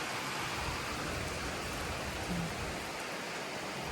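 Heavy rain falling outside, a dense continuous hiss of downpour with no breaks, loud and even throughout.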